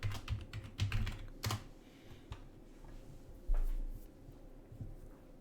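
Password keystrokes on a computer keyboard, a handful of close, quiet taps and clicks clustered at the start with a few scattered presses and a soft thump later, over faint background hiss and no talking.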